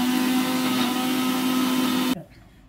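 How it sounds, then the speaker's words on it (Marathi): A kitchen mixer grinder running on dosa batter gives off a loud, steady motor whine for about two seconds, then cuts off abruptly into quiet. "नॉइस कॅन्सलेशन वाले का नाही बनवत मिक्सर?"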